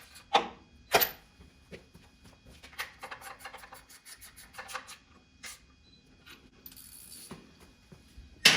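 Ratchet with a long 3/8 extension snugging oil pan bolts during an LS swap into a C10 truck, giving scattered quick clicking bursts and rubbing mechanical ticks, moderately close, with louder knocks near the start and end.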